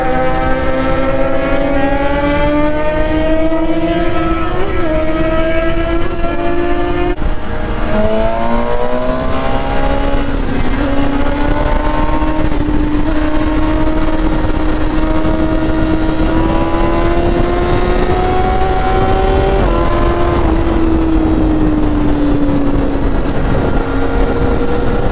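Loud motorcycles ride together in a group on a highway, engine drones rising and falling in pitch as they hold speed and shift, heavy steady wind roar throughout, no talking.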